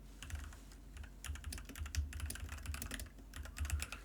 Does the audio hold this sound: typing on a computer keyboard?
yes